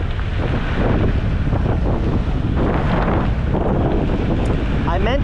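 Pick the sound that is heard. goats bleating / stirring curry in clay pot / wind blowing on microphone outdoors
wind blowing on microphone outdoors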